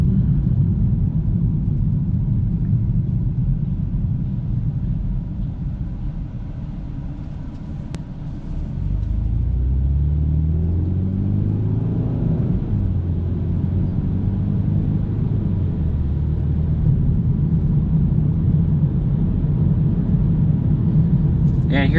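A car drives on a 70 km/h road in Sackville, Nova Scotia, gradually braking down to a red light; steady low engine and road rumble falls and rises as it slows, heard from inside the cabin.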